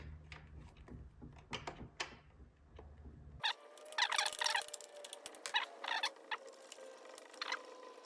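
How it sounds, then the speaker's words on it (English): A wrench clinks and ticks against a bolt on the handlebar of a BMW R100S motorcycle, giving scattered, close metallic clicks with a low hum at first, then brighter, busier tapping. "I think there's still enough room to get a wrench back in here"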